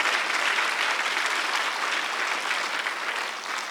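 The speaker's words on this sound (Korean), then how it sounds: "박수 세게 치세요" A church congregation claps hard in unison, a loud, dense wash of applause that holds steady for a few seconds with no talking over it.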